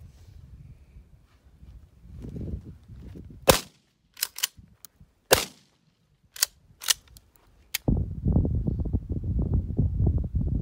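About seven sharp, loud gunshots from a firearm shot from the hip during trick shooting, fired singly at irregular gaps, each cracking close and ringing briefly, between stretches of outdoor rumble.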